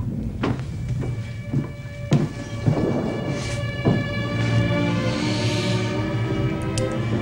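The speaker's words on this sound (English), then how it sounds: "Now listen, I don't want you two kids to stay out in the barn tonight in this storm." A heavy thunderstorm lashes a farm at night, with loud thunder cracks and rolling rumbles breaking repeatedly over a steady roar of pouring rain, a low sustained tone running beneath.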